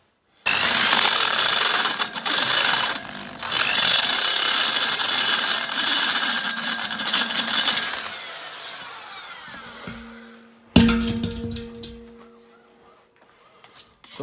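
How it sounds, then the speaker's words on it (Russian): Drill boring a hole into a steel gas cylinder, a loud sustained whine that runs several seconds, stutters briefly, then winds down and stops, followed by a short clanking burst. "сверлить газовый баллон совершенно безопасно"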